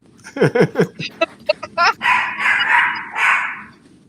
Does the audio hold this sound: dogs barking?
yes